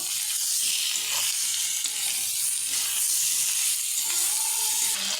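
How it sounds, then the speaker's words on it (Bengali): Koi fish sautéing with chili powder, turmeric and salt in a pan gives a loud, continuous hissing sizzle that runs without a break, with faint stirring scrapes beneath it. "এখানে সামান্য একটু লঙ্কার গুঁড়ো আর হলুদ লবণ দিয়ে দেবো, দিয়ে ভালো করে কষিয়ে নেব।"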